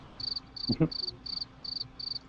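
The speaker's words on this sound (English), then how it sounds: "Was that crickets?" Crickets chirp in a steady pulsing rhythm as an inserted sound effect, six evenly spaced trills with a brief low thud among them, fairly loud and with no talk over it.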